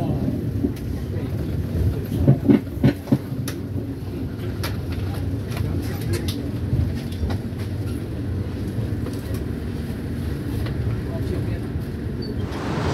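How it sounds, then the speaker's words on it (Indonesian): Interior of an Indonesian executive-class extra passenger train on the Gambir–Solo run, arriving at Cirebon station: steady low rumble and rail noise with a few sharp clanks early on, and a voice talking over it. "Saat ini perjalanan kereta api tambahan Gambir Solo sudah tiba di stasiun Cirebon."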